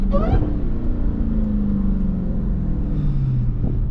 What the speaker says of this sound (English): Downshift. Oh, those downshifts.